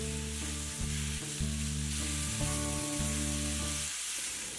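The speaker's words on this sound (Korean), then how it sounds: "팬이 달궈지는 동안 토마토를 익혀줍니다." Tomatoes fry in oil in a hot pan for a tomato and egg stir-fry, making a continuous, fairly close sizzle over a steady low hum that briefly breaks off several times.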